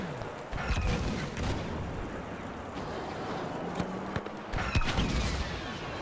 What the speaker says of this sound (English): Oh, homing missile.